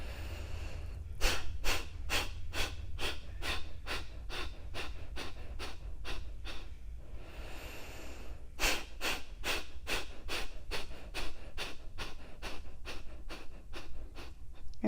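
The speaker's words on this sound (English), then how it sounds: "let's try to pump for 5 to 10 pumps per inhale" Rapid yoga pumping breaths driven from the belly, a long fast train of sharp rhythmic exhales close up, broken by a brief pause before the pumping resumes.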